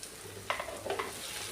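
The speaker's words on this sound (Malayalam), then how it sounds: "നല്ലോണം മിക്സ് ചെയ്ത് കൊടുക്കാം." Oil sizzling steadily in a pan at home with garlic, while a utensil stirs through it in a few soft scrapes over a constant low frying hiss.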